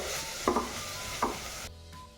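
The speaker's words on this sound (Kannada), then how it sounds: "ಈಗ ಪುಡಿ ಮಾಡಿಟ್ಕೊಂಡಿರೋ ಮಸಾಲೆನ ಹಾಕೋಣ ಹಾಗೆ ಮೊಸರನ್ನ ಸ್ವಲ್ಪ ಈ ಒಗ್ಗರಣೆ ಜೊತೆ ಫ್ರೈ ಮಾಡೋಣ ಒಂದು ನಿಮಿಷ ಅಷ್ಟೇ" Ground masala and curd frying in a hot tempering for pulao, with a steady sizzle and two sharp stirring scrapes, close and without talk.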